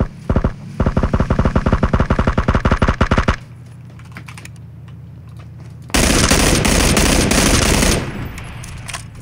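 Rapid automatic gunfire rattles in PUBG Battlegrounds, a fast, even burst of close shots lasting several seconds, then a lull of low engine hum before a loud, sustained roar of noise takes over.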